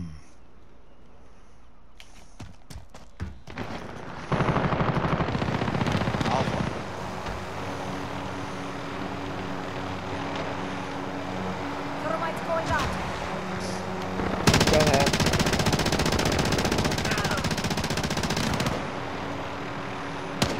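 Gunfire in the video game Call of Duty Modern Warfare, bursts of shots over a loud engine roar like a helicopter, with a player talking over it.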